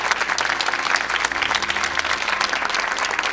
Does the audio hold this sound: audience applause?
yes